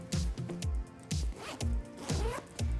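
A zipper on an Eagle Creek packing cube with climbing-rope-inspired pulls is drawn back and forth in short rasping strokes, about eight quick zips in a steady rhythm, close and clear with no talk.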